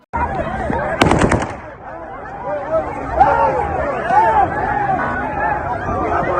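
Rapid bursts of gunfire ring out at a protest in Dagestan, with a loud automatic volley near the start followed by steady crowd shouting and babble.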